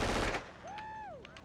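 Gunfire in a TV drama scene: a brief, loud burst of rapid shots at the start, then a rising and falling whistling tone over low background noise.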